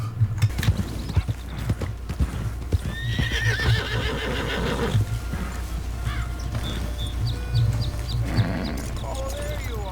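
Horse hooves clip-clop steadily in a Western-themed video game while the horse neighs and whinnies a few times, with a person talking over the sounds.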